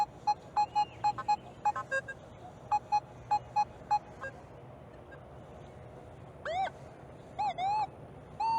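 Nokta Double Score metal detector gives short repeated beeping tones in a quick rhythm, then a few rising warbling chirps, heard clearly over steady outdoor background noise.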